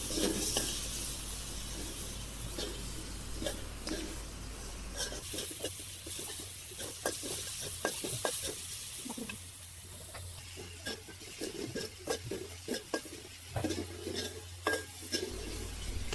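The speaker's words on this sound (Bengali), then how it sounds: "এরপর যে চিংড়ি মাছগুলো আছে সেই চিংড়ি মাছগুলো দিয়ে দিব। এগুলো এখন আমরা ভালোভাবে কষিয়ে নেব।" Shrimp stirred and sautéed in a pan for a shrimp-with-okra dish, with steady clinks and scrapes of a spoon against the pan over a soft background sizzle, close and fairly quiet, no talking.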